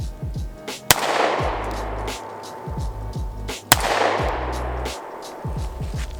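Two sharp pistol shots from a Bul Armory SAS2 Viper crack about three seconds apart. Each is loud and close, with a reverberating tail, and faint background noise fills the gaps.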